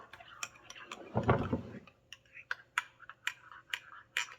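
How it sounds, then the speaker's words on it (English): A spoon stirs tea in a mug of freshly boiled water, giving a run of small, quick clinks and taps in an irregular rhythm, close and fairly quiet, with a short soft rustle partway through. "Give that a stir."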